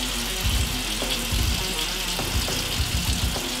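A tap runs into a sink for hand washing with soap, a steady hiss of flowing water broken by a few soft splashes and bumps as hands move under the stream.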